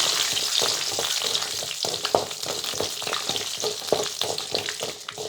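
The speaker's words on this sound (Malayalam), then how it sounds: "ഈ ഉഴുന്നൊന്ന് പൊരിഞ്ഞ് വരട്ടെ." Urad dal and mustard seeds fry in hot oil for a Kerala nettle thoran, giving a steady close sizzle scattered with sharp crackles and pops throughout, with no talking.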